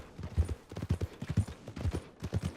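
Horse hooves clop along at a steady walking pace in Red Dead Redemption 2, a rhythmic run of muffled, fairly close thuds with no voices over them.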